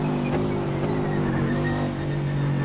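A McLaren race car engine in the iRacing sim drones steadily and loudly at sustained revs, a heavy continuous hum with slight pitch wavering and no breaks.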